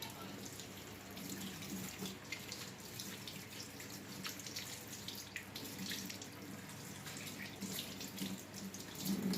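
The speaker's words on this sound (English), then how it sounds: "I'm just washing my hands" Hands are washed under a running tap while oral medication is being prepared, giving a steady, moderately quiet hiss and splash of water with faint shifting splatters throughout.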